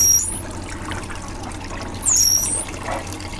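Cold water trickles and splashes from clothes being wrung out in an old Maytag wringer washer outdoors, a steady soft dribble with brief brighter splashes near the start and around the two-second mark.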